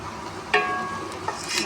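Fried pakoras being stirred into kadhi in a pot, with two brief metallic clinks of a spoon against the pot over a soft bubbling background, close and without speech.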